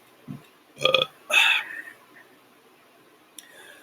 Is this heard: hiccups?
yes